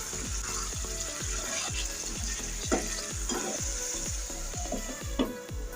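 Cut potatoes frying with spice paste in a pan for a river baila fish curry make a constant close hiss, punctuated by regular low knocks of a spatula stirring and scraping in a quick, even rhythm.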